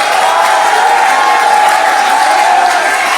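Audience applause and cheering at a Korean political launch ceremony for a citizens' fact-checking group, a dense, loud, steady roar of many hands and voices filling the whole moment.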